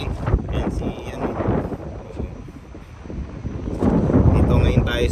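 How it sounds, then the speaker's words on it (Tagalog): Strong wind gusts buffet the microphone in an open park in Taiwan, rumbling low and uneven with swells and lulls, while people talk nearby. "Sobrang lakas ng hangin."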